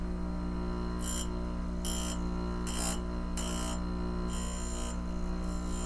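A Black Diamond drill grinder's chuck is clicked around onto its indexing pin, giving about six short metallic clicks at roughly one-second intervals over a steady motor hum.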